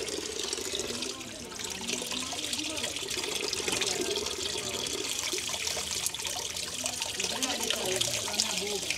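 Mineral water flows and trickles steadily from the Borjomi spring in Georgia, a continuous splashing babble at moderate volume with faint background noise.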